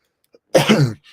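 A single short cough, close and fairly loud, with a faint breath or click just before it.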